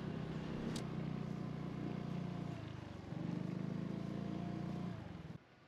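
A motorcycle is ridden near Chengtian Temple in Tucheng, New Taipei, its engine holding a steady close drone that dips briefly in the middle and then returns before fading out, with no voices.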